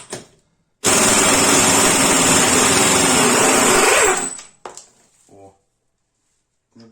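A Dnipro-M PW-68C pneumatic impact wrench loosens a nut in one sustained, loud, rattling burst of about three seconds, with brief speech before and after it.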